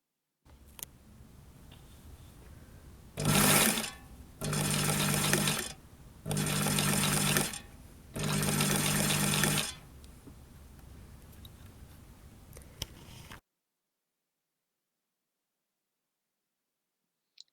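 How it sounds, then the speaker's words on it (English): Domestic sewing machine stitching along folded fabric edges to neaten a tie top, four loud bursts of whirring stitching, each one to two seconds long with short pauses between, over a quiet room background that cuts off near the end. "I'm folding in these edges and just sewing along them to make it not so ragged."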